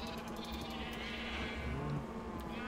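Sheep bleat repeatedly in the Minecraft video game, several wavering cries over steady game background sound, with no talking.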